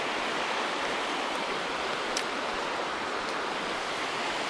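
The River Scaddle flows beside a small bridge in a Highland glen near Loch Linnhe, a steady, fairly loud rushing wash of water throughout.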